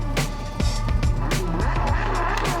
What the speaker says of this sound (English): Yeah, the car's sliding around a little bit,